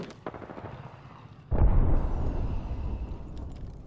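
Apex Legends gunfire and a heavy impact: scattered sharp shots, then a sudden loud booming blast that rolls into sustained rumbling fire and crackle, close and dense.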